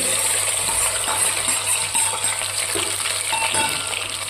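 Garlic and ginger fry in hot oil with mustard seeds, dried chillies and curry leaves for a tender mango pickle, a dense continuous sizzle with occasional stirring clinks, close and steady.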